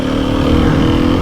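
A 300cc enduro motorcycle engine runs at a steady, smooth idle or low rev, a continuous near drone with no talk over it.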